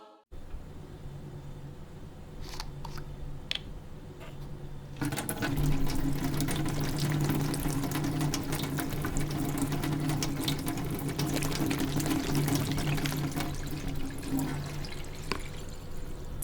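Water runs steadily from a tap in Flint, Michigan and pours into a clear cup, a continuous splashing stream that grows louder partway through, with no one speaking.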